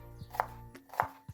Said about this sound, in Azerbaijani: İndi isə soğanlarımı doğrayıram